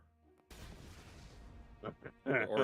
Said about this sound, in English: Or explosion.